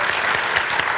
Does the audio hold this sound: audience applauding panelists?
yes